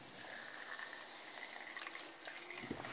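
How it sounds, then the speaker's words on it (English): Regular tap water poured onto dried basil seeds for a sweet tropical fruit dessert drink, a steady close trickle and splash lasting throughout, with no talk. "Then you just add water,"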